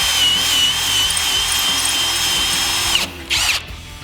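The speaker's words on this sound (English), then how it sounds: "So once you drill your 4 holes for your hinges" A power drill boring hinge holes in an aluminum drop-down tailgate on a Jeep Wrangler TJ/LJ, running at a steady high whine for about three seconds, then cutting off with a brief final burst, close and loud with no talk.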